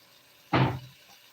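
A brief splash of water poured into a pan of cooking bacon, a single sharp burst of sizzle that fades over a fraction of a second against a quiet kitchen background.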